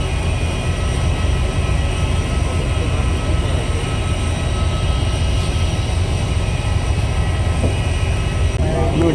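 A small private aeroplane at Varanasi airport, heard as a loud, steady engine roar that stays constant throughout without a break.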